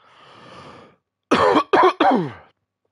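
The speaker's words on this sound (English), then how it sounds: "Excuse the coughing." A person coughs up close: a drawn-out breathy throat sound, then three sharp, harsh coughs in quick succession.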